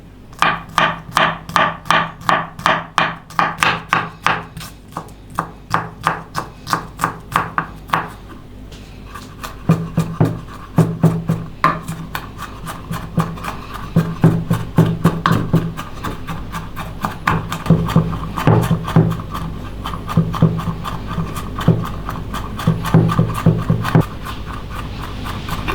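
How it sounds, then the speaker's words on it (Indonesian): A knife chops garlic cloves and shallots finely on a board, a long run of rapid, steady, close taps that continue with a brief pause and a slightly softer, denser rhythm later. "Rajang halus, sisihkan."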